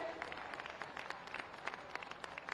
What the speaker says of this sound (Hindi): आप सभी जोरदार तालियां मंच तक प्रेषित करें।